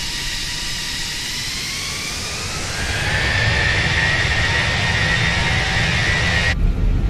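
Simulated Airbus A320 jet engines in a flight simulator spool up, a rising whine climbing in pitch over a steady loud roar that grows louder, then holds, without talk.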